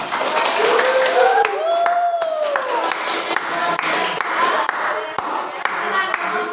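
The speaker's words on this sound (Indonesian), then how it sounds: "Beri aplaus dulu untuk kelompok" Applause from a classroom of students for a student group, steady dense clapping filling the room for several seconds, with a few faint whistles or cheers mixed in.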